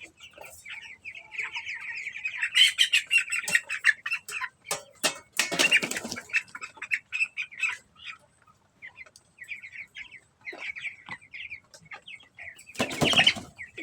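Seventeen-day-old broiler chickens in a shed, clucking and chirping in a steady chatter with bursts of wing flapping and scuffling, close by.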